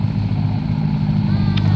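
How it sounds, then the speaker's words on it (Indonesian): A car passes along an alternative road near Sibulangit, Medan Tuntungan, its engine a loud, steady low rumble close by for the whole moment. "Ada mobil lewat sini."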